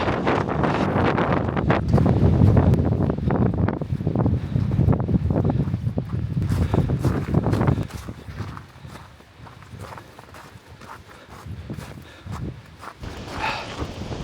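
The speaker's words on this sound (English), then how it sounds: "Wow, the wind has really picked up here." Strong wind buffets the microphone in heavy rumbling gusts along with crunching footsteps on a winter uphill walk, easing off partway through before gusting again.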